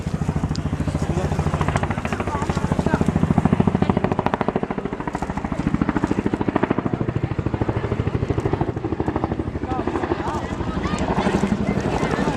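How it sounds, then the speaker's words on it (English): A very large Chinook twin-rotor helicopter flies a manoeuvring display at an airshow, its rotors chopping in a loud, fast steady beat that swells and eases over several seconds, with an announcer talking over it. "The display you see today really shows how manoeuvrable this extremely large helicopter is."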